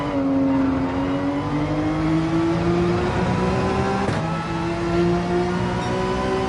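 A race car engine runs at full throttle up an uphill section of a track in a racing video game, a steady loud drone whose pitch climbs slowly with a brief dip midway as it pulls hard throughout.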